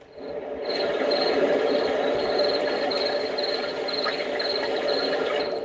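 A dense, steady chorus of croaking frogs from a sound app fills the scene continuously, with faint chirping layered in and a brief quiet start.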